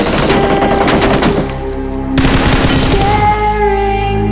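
Automatic gunfire from PUBG Mobile on the Erangel map, loud rapid bursts of shots that pause briefly, then resume in a second volley that tails off into ringing tones.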